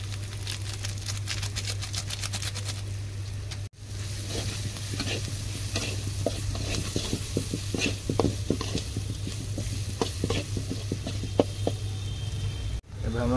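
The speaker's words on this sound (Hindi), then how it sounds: "प्रथम गोटे मैगी मसला देदेबा" Maggi masala sizzles and fries in a pan over a clay stove, with a spatula scraping and stirring in irregular strokes over a steady low hum and constant crackle, recorded close.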